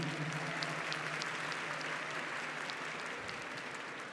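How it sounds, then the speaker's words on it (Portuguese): A church congregation at a Saint Michael the Archangel feast fills the space with dense, steady applause that holds for about four seconds, close and loud, with no speech. "vamos aplaudir a Jesus e a igreja"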